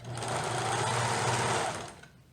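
A serger sewing machine runs fast and steadily while stitching the hem of knit baby leggings, a loud close whirring buzz lasting under two seconds before it winds down.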